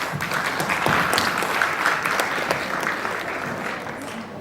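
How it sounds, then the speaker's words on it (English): A crowd claps steadily in a sustained round of applause, dense and fairly loud, tapering slightly toward the end. "can give them a round of applause."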